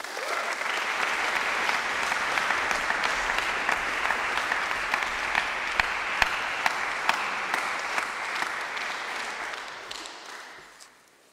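An audience claps steadily for about ten seconds to welcome a speaker, full and sustained with no voices over it, then fades out near the end.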